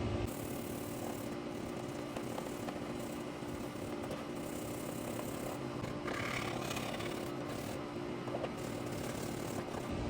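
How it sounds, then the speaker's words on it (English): Steady sanding rasp on an Axial SCX10 Pro RC Jeep hardbody, a continuous close scratching texture running unbroken and fairly even throughout with no talk. "so we're just gonna keep sanding and keep going"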